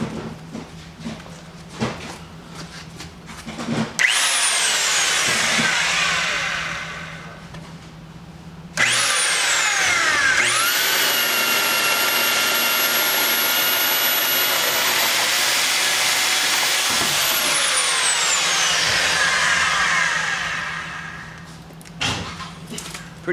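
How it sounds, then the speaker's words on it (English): Heavy-duty right angle hog drill boring a hole through rough-end lumber, a loud sustained whine that spins up, holds steady for several seconds and winds down, with a brief first burst before the main run; no talk over it. "your right angle drill or your hog drill"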